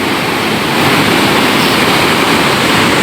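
Strong sea waves during Typhoon Kristine batter the shore, a loud, unbroken roar of surf and rushing water close by, with no voices.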